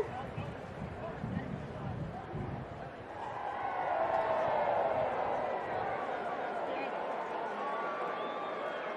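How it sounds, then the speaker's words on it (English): Baseball crowd at an Orioles–White Sox game swells into loud, sustained jeering at the plate umpire over a call, a broad roar of many voices rising after a few seconds and holding steady. "Crowd rides Sherwater, the plate umpire, on that call."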